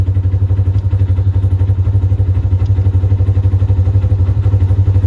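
A 2018 Polaris RZR RS1 side-by-side idles after starting, its engine holding a steady, loud, low rumble with even pulsing and no voices over it.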